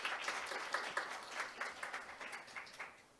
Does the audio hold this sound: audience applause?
yes